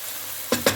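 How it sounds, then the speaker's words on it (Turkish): Celery leaves and potatoes frying in a pan, with a steady soft sizzle followed by three sharp, close scraping strokes as the mixture is stirred. "Evet, karıştırmaya devam ediyorum."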